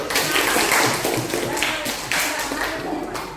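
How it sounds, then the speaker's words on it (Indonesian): A small group of students in a classroom claps in brief, scattered applause, close and fairly loud, with faint voices mixed in. "Tepuk tangan dulu"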